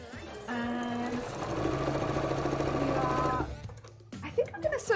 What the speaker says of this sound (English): at the moment, we're just sewing together the first pieces